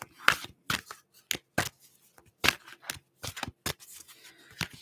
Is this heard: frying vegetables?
no